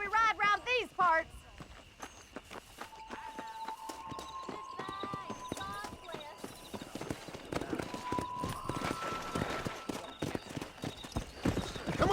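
Horse hooves clip-clopping while riding in Red Dead Redemption, a steady trotting rhythm close by under game music and occasional talking voices.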